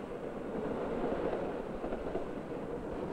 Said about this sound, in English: the perfection of the diesel engine, made possible the heavy-duty engines which today pull most of our long-distance trains